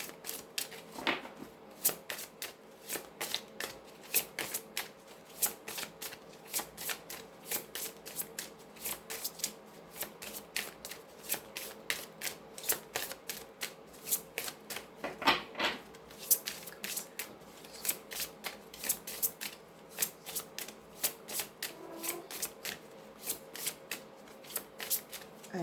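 Tarot cards are shuffled by hand in a long, steady run of quick crisp riffles and slaps, close and fairly soft, with a brief louder snap partway through.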